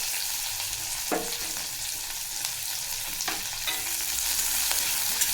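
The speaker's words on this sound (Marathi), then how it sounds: "तर कांदा टाकून घ्यायचा आहे" Chopped onion fries in hot oil with browned garlic, cumin and mustard seeds, a dense steady sizzle from close by with occasional scraping stirs of a spatula against the pan, no voices.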